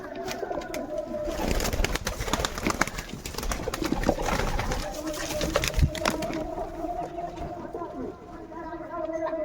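Domestic pigeons, including a male, coo in low throaty rolling calls close by, the cooing continuous under flapping and rustling, with a person talking intermittently over it.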